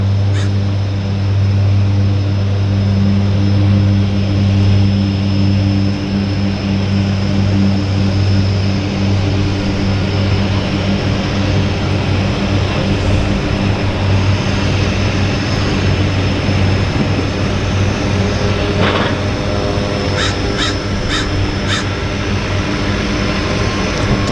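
Propeller aircraft at Vancouver Harbour's downtown seaplane airport, with three planes present and spray on the water, give a steady loud engine drone with a strong low hum that holds throughout.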